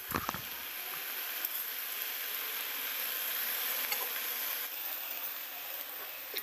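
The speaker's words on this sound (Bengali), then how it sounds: "নুন আর হলুদ দেওয়ার পর আমি খারকোল পাতাগুলো 5 মিনিট মতন ভেজে নেব।" Kharkol leaves frying in a pan with salt and turmeric, giving a steady, soft sizzle with faint stirring scrapes throughout, close and even, with no voices.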